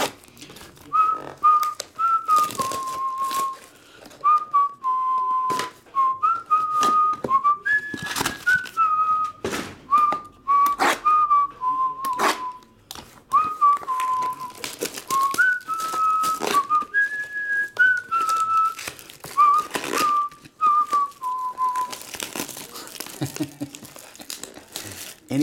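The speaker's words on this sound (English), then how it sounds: "Maybe I didn't whistle it correctly." A person whistles a short melodic tune in phrases of a few notes each, fairly close and clear, with crinkling and handling noises from opening trading-card packs underneath and between phrases.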